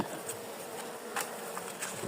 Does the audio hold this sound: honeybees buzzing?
yes